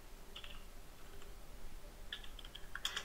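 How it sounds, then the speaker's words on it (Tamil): Typing on a computer keyboard in a quiet room, scattered light key clicks with a few brief bursts, faint and close, no talking. "டேட்டாபேஸ் கனெக்ஷன் எரர் நான் டைப் பண்ண போகிறேன்."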